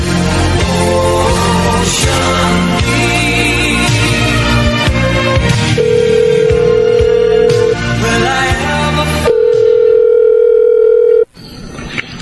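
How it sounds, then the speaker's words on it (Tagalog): Telephone dial tone and ringing used as a radio drama sound effect: steady loud electronic tones with a continuous hum underneath, then an abrupt cutoff near the end. "Mamaya po, subukan kong tawagan si Vanessa."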